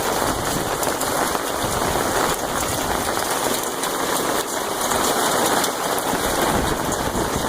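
Dense, continuous patter of hail falling hard on surfaces all around at a state park campground, a steady hiss-like clatter without pauses, like pellets of ice striking the ground.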